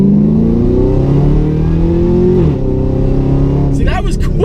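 A modified 670 hp 2013 Chevrolet Camaro ZL1 accelerates hard, its engine note climbing loud and close, then dropping sharply at a quick gear shift before pulling again, with a burst of wind or tire noise at the end.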